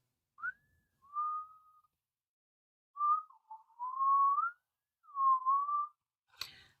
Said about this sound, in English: What are you whistling for